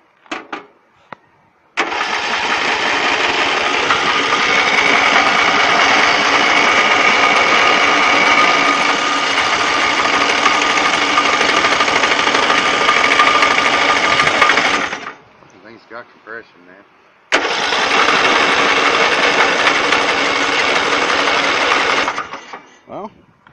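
A riding mower engine cranks and catches, running loud and rattly for about thirteen seconds, cutting out, then firing again for several more seconds.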